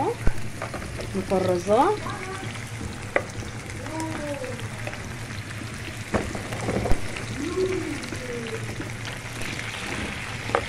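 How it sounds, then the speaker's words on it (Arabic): Breaded chicken sizzles and crackles steadily in a hot pan on the stove, a continuous frying hiss with scattered pops, while someone talks over it in several short bursts. "هبدأ انزل بالفراخ البانيه بتاعتنا على النار"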